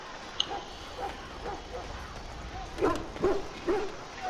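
Hounds barking in a fantasy game setting, a series of short yips and barks that grow louder toward the end, moderately distant over a low background murmur.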